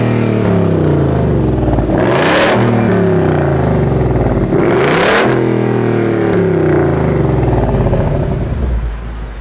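A BMW ActiveHybrid 5 car engine idles loudly up close and is revved twice, each rev rising sharply to a high roar and falling back to a steady hum, with no talking.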